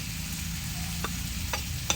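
Prawns frying on a tawa in an outdoor village kitchen, a constant close hiss and sizzle of oil with three quick scraping stirs, no talking.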